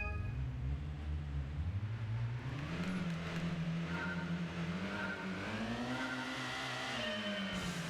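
Engine of a Mazda MX-5 in Gran Turismo 1, revving steadily and climbing through the gears, with a loud, continuous rising and falling drone and no talking.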